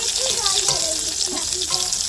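Pointed gourd (potol) fries in a pan, a close, continuous sizzle of oil with scraping stirring sounds, while a voice chatters faintly in the background.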